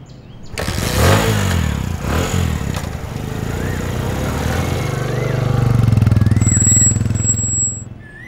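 A motorcycle engine cranks and catches, then idles and revs steadily before pulling away, loud and close, with brief talk over the start.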